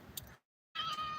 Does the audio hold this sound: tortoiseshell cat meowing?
yes